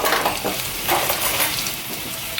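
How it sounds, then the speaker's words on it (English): Steady, crackling sizzle of leaves frying in hot oil in a pan, continuous and close, with no voices. "the sage is beautifully frying"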